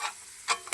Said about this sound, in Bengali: মশলাটা আমি ভালো করে কষাই নিব।